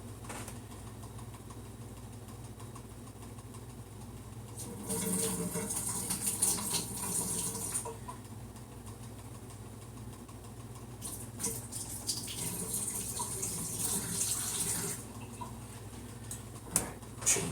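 Water poured out of a mead-making container in two splashy pours of several seconds each, close and moderately loud over a low background hum.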